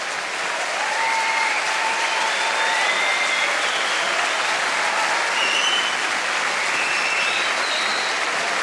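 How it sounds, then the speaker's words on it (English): A comedy club audience applauds loudly after a stand-up set by comedian Martin Gold, dense sustained clapping and cheering filling the whole stretch, with faint whistles and shouts riding on top. "keep the applause going, please"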